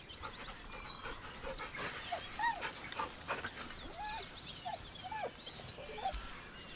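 A dog in the video game Baldur's Gate 3 pants and gives soft whimpering whines, fairly close, over a low ambient game background.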